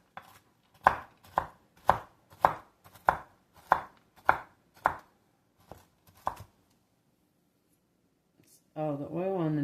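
A knife chops pecans on a cutting board in about a dozen crisp, evenly spaced strokes that slow and thin out toward the end, followed by a voice speaking near the close.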